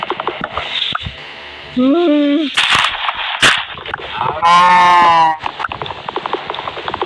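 A cow moos in the video game Minecraft, two short low moos heard close among game clicks and effects, with people talking around them.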